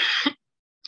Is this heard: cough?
yes